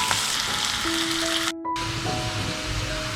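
Two sliced onions sizzle steadily as they fry in a pan, a continuous close crackling hiss with a brief break partway through before the frying resumes.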